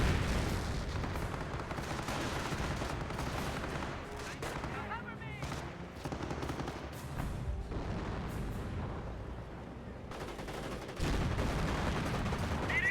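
Grenade blasts and rifle and machine-gun fire boom through a Company of Heroes battle, dense and continuous with repeated sharp reports and heavy rumbling impacts throughout, alongside a voice.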